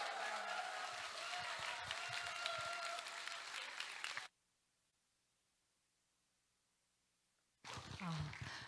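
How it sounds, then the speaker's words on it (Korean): A church congregation at a Sunday afternoon service claps loudly and steadily for about four seconds, then falls silent, and the applause briefly resumes near the end amid faint voices. "큰 박수로 모셨으면 좋겠어요"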